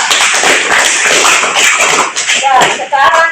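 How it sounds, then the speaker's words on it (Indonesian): Classroom clapping for a discussion group in an Islamic jurisprudence lesson at a madrasah, with quick, uneven hand claps from many students close by and loud throughout, mixed with shuffling and chatter. "Tepuk tangan dulu untuk kelompok"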